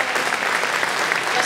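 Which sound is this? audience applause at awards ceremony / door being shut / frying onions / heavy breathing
audience applause at awards ceremony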